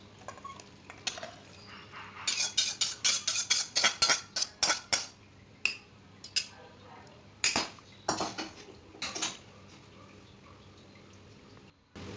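Metal utensils clink and scrape sharply against a pot and bowl as a curry of potato, drumsticks and dried fish is ladled out, with clustered, irregular clatters up close, then a fainter scrape near the end.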